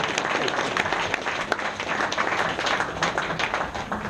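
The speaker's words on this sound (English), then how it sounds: "Honestly, that is a clap." Wedding guests clap during a groom's speech, a steady, lively round of applause from a roomful of people, fairly close and continuous without talk.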